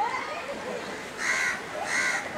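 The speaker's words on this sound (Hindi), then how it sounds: "ये देखिए चिड़ियाँ हैं" Crows caw twice in quick succession at Banganga pond, an ancient temple tank, loud and fairly close, over a low murmur of outdoor background noise.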